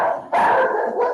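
Small pet dogs barking indoors, a quick yip followed by a louder sustained bark and a short trailing yelp, close and sharp.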